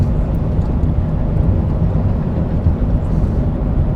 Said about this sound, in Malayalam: പഴയ ഗുഡ്സ് ട്രെയിനാന്ന് തോന്നുന്നു കേട്ടോ